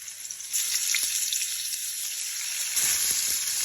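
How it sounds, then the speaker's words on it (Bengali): Pumpkin and bitter gourd fry in a pan, a close steady hiss and sizzle that grows louder after a moment, with a few light clicks of stirring. "আজকে কুমড়ো আর করলা ভাজি করব"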